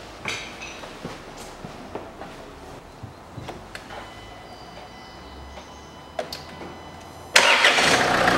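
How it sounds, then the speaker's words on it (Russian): Clicks and faint mechanical taps lead up to a 2011 Range Rover Evoque 2.2 engine cranking and catching, then a loud, steady running roar close by. "Запускаю автомобиль."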